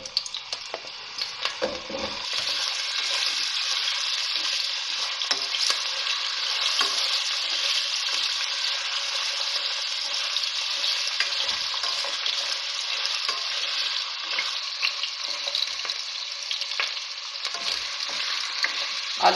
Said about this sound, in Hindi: आलू को मैंने थोड़ा सा फ्राई कर लिया है।